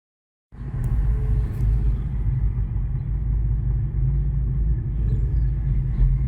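Twin-turbo Mitsubishi 3000GT / Dodge Stealth engine rumbling steadily on a road drive, a loud continuous low drone that starts abruptly after a short silence and holds even throughout, with no talk.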